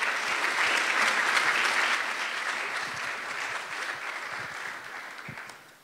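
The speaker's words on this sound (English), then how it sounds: "So let's give them a round of applause." An audience claps at an architecture and design event in New York, a full, dense wash of applause that holds steady and then gradually tapers off toward the end.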